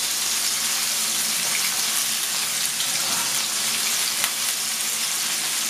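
Sliced mushrooms that have soaked up some water fry on reduced heat in a pan, giving a steady close sizzle broken by occasional sharp pops and crackles, with no talking.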